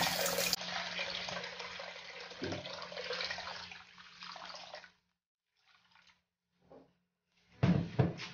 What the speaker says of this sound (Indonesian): tambahkan air secukupnya